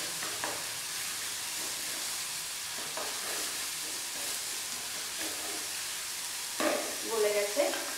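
Tomato pieces fry in hilsa fish oil in a pan for Bengali shorshe ilish, giving a steady low sizzle throughout with a few louder stirring scrapes and spits near the end.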